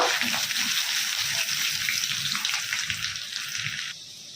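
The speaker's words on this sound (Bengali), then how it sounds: "তো এটাকে একটু ভালো করে ফ্রাই হতে দেব" Chopped garlic and ginger fry in a pan with a constant loud hiss and crackle, bubbling close up, easing slightly toward the end.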